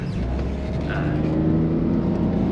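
A BMW 3 Series E46 323i engine pulls steadily under acceleration, a close low drone and rumble from inside the car, rising smoothly with little sign of a jerky shift.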